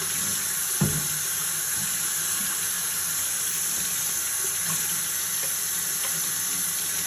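Running water rinses the fins of a furnace blower wheel, a steady hissing spray that continues without a break throughout, close and fairly loud.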